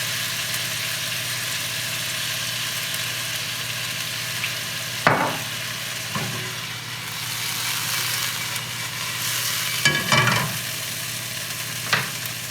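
Venison and vegetables stir-frying in avocado oil in a pan give a steady sizzle under a low background hum. Several sharp clanks and scrapes of stirring come at intervals, with no talking.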